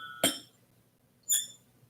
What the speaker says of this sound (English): Glass on glass.